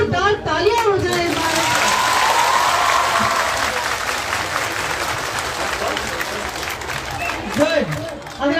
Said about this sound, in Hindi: बातों की बजाय अगर जोरदार तालियां हो जाए